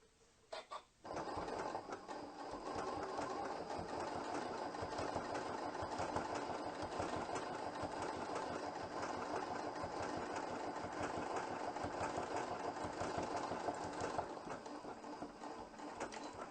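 A Janome sewing machine runs steadily, stitching hand-look quilting stitches with a lengthened stitch, its motor whirring in a fast, even mechanical rhythm that starts after a few clicks and continues close and unbroken throughout.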